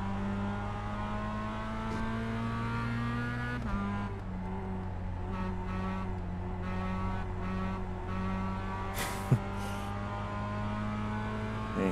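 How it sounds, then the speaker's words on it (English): Mazda MX-5 race car engine in the iRacing game, a steady buzzing drone that dips as the throttle comes off and then climbs again, moderate level and continuous, no talking. "You hear me just getting off and on the throttle."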